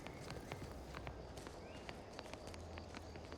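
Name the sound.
footsteps in the video game The Outer Worlds 2, sounding like flip-flops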